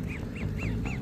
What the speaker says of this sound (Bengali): ওই হাঁসগুলি এসে এসে খায়